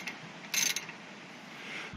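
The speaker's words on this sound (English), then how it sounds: "And this bolt, just with a ratchet and a socket." A ratchet wrench with a socket turns a brake caliper bolt on a van during a brake pad change, giving a brief burst of quick metallic clicks in a quiet setting.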